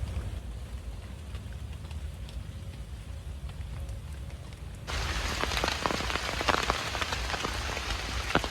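Rain patters steadily in an Indian rainforest at a camp, light at first, then abruptly turning into a heavy, dense downpour with scattered sharp drops striking nearby surfaces.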